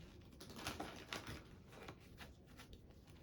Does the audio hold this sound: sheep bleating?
no